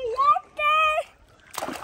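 Water splashes briefly in a hot outdoor pool right after a child's high-pitched voice speaks, a short burst of sloshing at the end.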